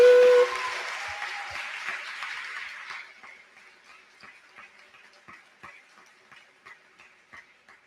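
A graduation audience applauding in a school hall, a dense wash of clapping that thins after a few seconds into scattered individual claps fading out.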